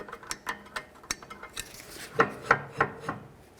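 On a 2014-2020 Nissan Rogue, the rear brake adjuster is backed off with a series of close metallic clicks and ratcheting ticks in irregular rhythm.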